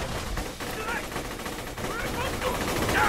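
Rapid gunfire in the first-person shooter Borderlands 2, a dense sustained burst of game shots with a voice talking over the action throughout.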